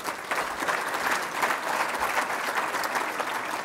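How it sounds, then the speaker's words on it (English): An audience at the 2019 St. Clair County State of the County event applauds its sponsors: sustained, fairly close clapping from a sizable crowd, even in intensity throughout. "Let's give them a round of applause"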